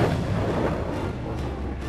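Bofors FH77 howitzer artillery gun firing, a loud, sustained booming rumble heavy in low frequencies that fills the whole moment with no clear separate shots.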